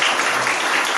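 A short burst of steady clapping from a group in a hospital meeting room, bright and continuous throughout.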